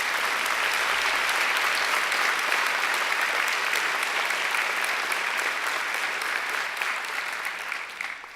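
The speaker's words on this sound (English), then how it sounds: "I think she deserves another great round of applause." A graduation audience applauds in a large hall, a dense, steady wash of many hands clapping that carries on loudly for several seconds before beginning to fade at the end.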